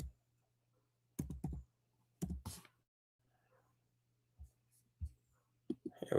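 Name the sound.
typing on a computer keyboard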